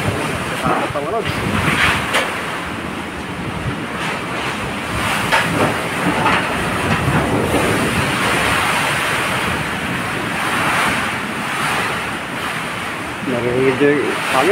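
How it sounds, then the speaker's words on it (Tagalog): Powerful typhoon wind (Typhoon Tino) roars steadily with gusting surges and rattling, a dense continuous rush that rises and falls, with occasional faint voices underneath. "Narinig yung hangin. Napakalakas na."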